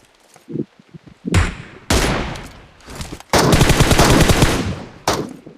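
Bursts of automatic gunfire from the mobile battle-royale game PUBG Mobile, several loud rapid volleys separated by short gaps, with a long sustained burst near the end and no talk.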